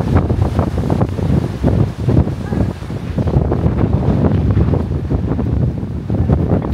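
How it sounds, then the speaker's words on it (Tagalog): Strong wind buffets the microphone at a Melbourne waterfront, a loud continuous roar and rumble with gusts, water washing nearby, and faint voices under the wind. "Lakas ng hangin."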